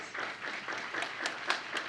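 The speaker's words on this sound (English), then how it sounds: "How about a nice round of applause for tonight's musical performance?" Applause from an awards-evening audience after a live musical performance at a community event: a faint, distant patter of many hands, brief and fairly even, with a few slightly sharper claps standing out.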